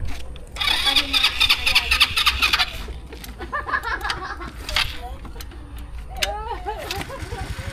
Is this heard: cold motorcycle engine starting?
yes